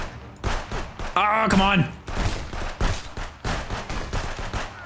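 Pistol gunshots in the video game Contraband Police: a rapid series of loud, sharp shots and impacts in a gunfight, with someone talking over them in frustration.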